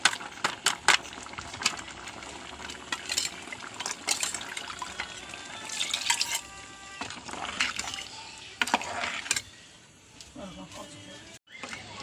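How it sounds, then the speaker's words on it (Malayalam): Tamarind water is poured into a pot of sambar cooking with drumsticks and okra. It trickles and splashes in close, uneven bursts, with clinks and a voice heard intermittently before it quietens near the end. "അത് പുളി വെള്ളത്തിലിട്ട് കലക്കി ഒഴിക്കണം"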